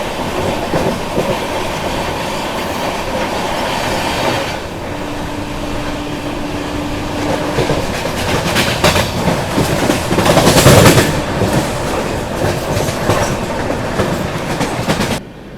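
Inside the Rajdhani Express at speed, a loud continuous rumble of wheels and clickety-clack fills the air while it overtakes the Danapur LTT special, swelling briefly with a rushing burst near the end.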